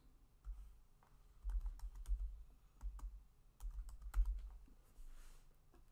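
Keys clatter on a computer keyboard as a bookmark name is typed into security camera client software, with quiet, close, irregular clicks in short bursts separated by brief pauses.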